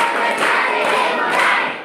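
A class of students standing up and doing a rhythmic concentration clap in a classroom, a dense, steady burst of many hands clapping together for about two seconds, loud and close, with no talking over it.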